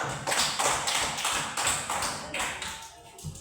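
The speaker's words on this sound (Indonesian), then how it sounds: "Tepuk tangan dulu" Classroom clapping as pupils applaud together in a rhythmic pattern, with clear repeated claps in roughly steady groups that fade out near the end.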